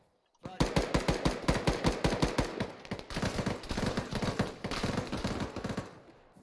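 Rapid bursts of gunfire in a military shooter video game during squad training, sharp repeated shots in quick clusters, fairly close and loud, continuing steadily with a faint voice underneath.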